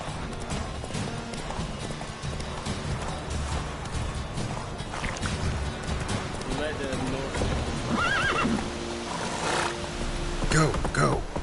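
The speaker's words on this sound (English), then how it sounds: "Run, Roach" A horse gallops with steady hoofbeats in The Witcher 3 video game, with whinnies and snorts and game ambience around it, and a steady mixed background throughout.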